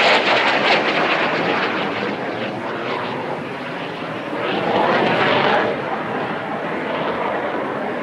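An Aero L-159A single-seat jet performs an airshow flying display, its engine a broad continuous roar that swells and fades as it passes, loud and sustained throughout.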